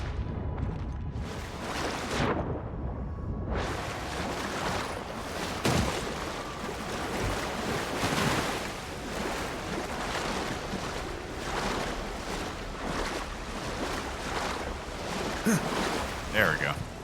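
Water and waves wash steadily in the game Avowed, a continuous surf-like rush near a waterfall that holds at a consistent level throughout, with a few brief louder swells.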